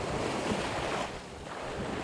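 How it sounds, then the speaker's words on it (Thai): Ocean waves wash against a rocky coastline during shore squid fishing, a continuous broad roar of surf mixed with heavy wind noise on the microphone. "ดูคลื่นมันซัดที่ทุกคน"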